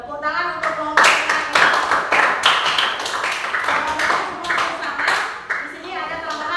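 Children in a classroom clapping for a group, bursts of close, sharp handclaps in quick irregular rhythm, loud and lively, with children's voices calling out underneath.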